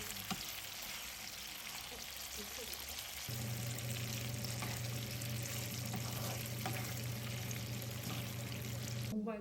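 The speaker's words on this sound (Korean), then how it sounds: "지글지글 끓는 소리는 뭐 참지." Aglio e olio sizzles in a pan, a steady close crackling hiss that carries on throughout, with faint background hum and a low tone entering partway.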